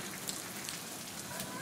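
Rain falls during a storm in a brief stretch of steady, close patter with scattered sharper drops, and faint voices sit underneath.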